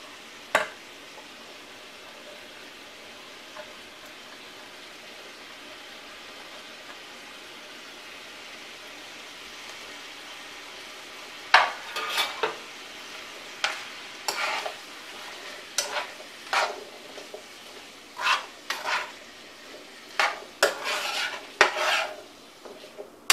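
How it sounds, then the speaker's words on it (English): Potatoes fry in chorizo grease left from pork and beef, a faint steady sizzle running throughout, joined midway by a series of sharp scraping stirs of a utensil against the pan. "So we're going to use that grease to cook these potatoes. Soak them in chorizo grease."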